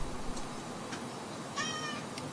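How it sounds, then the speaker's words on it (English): A pet cat meows a few times in the background, faint and distant over a steady hiss of room noise, with one longer drawn-out mew near the end. "And you can hear my puss in the background."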